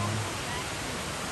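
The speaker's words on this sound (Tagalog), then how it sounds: "And we made it to the falls." Roaring waterfall near Hope, Canada, a steady dense wash of falling water filling the air, loud and continuous with no clear breaks.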